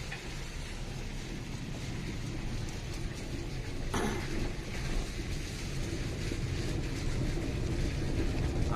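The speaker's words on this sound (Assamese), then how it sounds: "ওপৰেদিকে ট্ৰেইন যায়, তলে তলে আমি গৈ আছোঁ।" A train rumbles across a bridge overhead while a car drives through the underpass below, on a road trip to Banipur station in Assam; a steady, loud low roar fills the whole stretch, mixed with wind noise.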